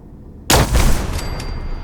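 A single loud gunshot blast in a shooter video game, fired at a turret inside a bunker, bursting abruptly out of near silence and trailing off into a reverberant rumble.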